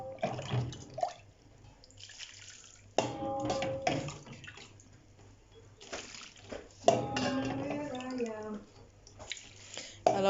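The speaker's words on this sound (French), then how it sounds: "Vous allez rajouter donc de l'eau." Cold water splashes and pours into a frying pan of spaghetti, coming in several uneven bursts of liquid sound with gurgling, while a person speaks intermittently.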